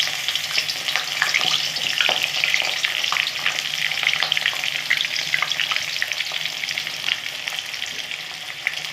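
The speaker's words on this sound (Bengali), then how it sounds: "বাঁধাকপিগুলো ভেজে নেব" Shredded cabbage fries and sizzles in hot mustard oil, a steady crackling hiss with scattered sharp pops and occasional stirring scrapes, close and loud with no talking.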